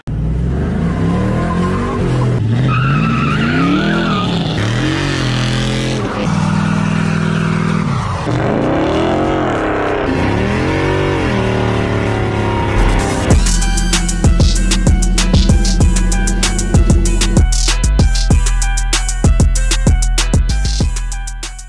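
LS-swapped OBS truck engine cranking over on a high-torque starter, then catching with a loud, steady rumble and sharp revving up close.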